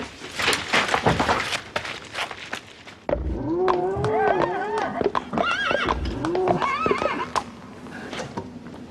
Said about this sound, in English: You mean that was the phantom horse noises in the night?